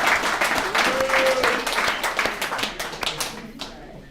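A room of people at an alumni recovery meeting claps for a speaker in a sustained round, with loose, overlapping hand claps that taper off toward the end, and a voice comes through briefly under the clapping.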